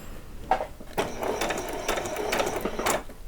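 A sewing machine stitching doll saree fabric runs in several short bursts of rapid mechanical chatter with brief pauses between, close and fairly quiet.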